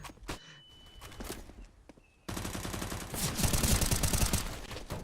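Rapid gunfire from a match in a competitive online shooter, Legend Series group-stage play, with dense overlapping bursts growing loud and busy in the second half after a quieter start with scattered shots and footsteps.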